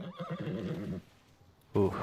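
A horse in a video game whinnies with a wavering, drawn-out neigh, pauses briefly, then lets out a short, louder neigh at the end.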